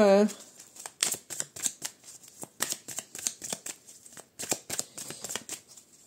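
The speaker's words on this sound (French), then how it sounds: "j'ai beaucoup trop de cartes là. Il y a besoin de couper..." Tarot cards riffled and cut by hand, a run of rapid papery bursts and flicks in uneven clusters, close and fairly loud, with a short voiced sound at the very start.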